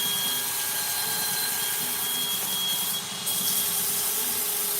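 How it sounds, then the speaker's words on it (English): A power sanding pad works over an oak burl bowl on a lathe, producing a continuous broadband whirring hiss with a steady motor hum and a brief dip near the end. "Do a little reverse sanding."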